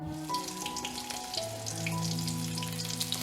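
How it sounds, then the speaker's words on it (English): Mustard seeds spluttering in hot oil for a breakfast poha, a dense crackling sizzle with scattered sharp pops, close and steady, over a faint tonal background and with no speech. "Now add mustard seeds. When it has spluttered"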